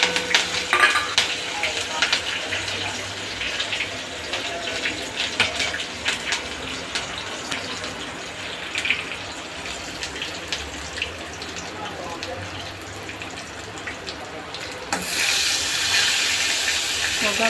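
Green chilies and curry leaves tempering in hot oil for Kathiyawadi kadhi, a dense steady sizzle and hiss with crackling pops, close and continuous, with a brief louder surge near the end.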